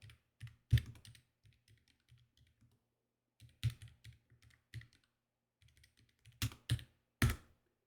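Computer keyboard keys clatter in short bursts of irregular typing while a terminal command is being entered, with a few louder, sharper keystrokes near the end and quiet pauses between the bursts.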